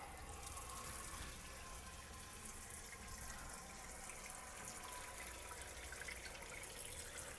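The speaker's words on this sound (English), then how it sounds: "Take these eggs, put some cold water on them." Cold tap water running over eggs in a kitchen sink, a steady, quiet, continuous splashing stream with no talking.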